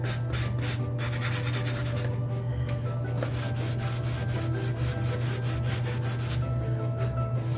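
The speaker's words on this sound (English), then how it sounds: "I'm just going to start sanding where I know that I put the wax" Light hand sanding over a beeswax-rubbed spot on the wood of a thrifted caddy, a steady scratchy rubbing in quick back-and-forth strokes, close and continuous over a low constant hum.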